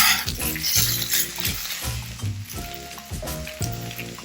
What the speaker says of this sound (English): Make sure the wok is hot so that the noodles will not stick and form clumps at the bottom of the wok.